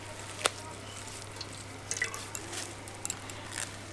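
Watermelon pulp is pressed by hand in a strainer, and the juice drips through in scattered, irregular drops. The drips are faint and close over a steady low hum.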